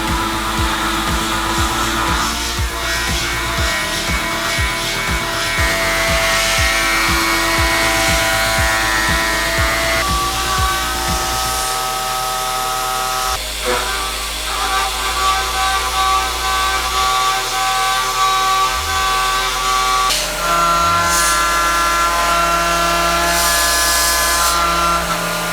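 A machine tool cuts a metal tray at reduced feeds and speeds, producing a loud, steady whine with strong harmonics whose pitch steps and shifts as the cut moves along, continuous and close with no talk.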